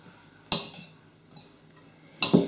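A knife clinks twice against a bowl while stirring sugar into flapjack mix, two sharp taps roughly two seconds apart with quiet scraping between, nobody talking.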